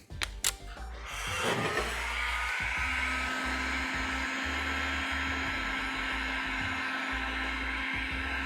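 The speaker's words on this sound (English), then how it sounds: "And then just finish off with the heat gun." A heat gun runs with a steady, loud blowing roar and a constant whine, worked over the crease of an aftermarket body kit trim on a BMW F30 after a few sharp clicks at the start.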